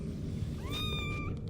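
A kitten gives one rising, drawn-out meow in close-up, heard over a constant low rumble of background noise.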